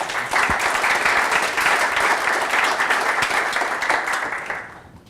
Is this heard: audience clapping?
yes